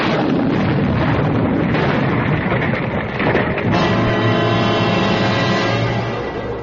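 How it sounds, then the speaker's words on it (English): A loud, broad explosion bursts out in a radio mystery drama, a heavy roaring blast that rumbles on, then gives way to a lingering ringing decay. "there was a flash of light and a loud explosion"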